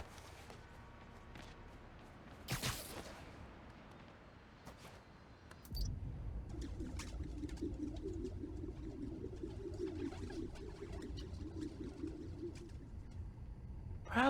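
Pigeons coo softly in Spider-Man: Miles Morales on PC, a low repeated cooing under faint city ambience, with a sharp click and a brief burst of movement noise along the way.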